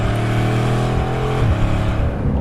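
A Bugatti Chiron Super Sport accelerating at full throttle on boost, a loud, dense engine roar climbing steadily in pitch, heard from inside the car with no talking.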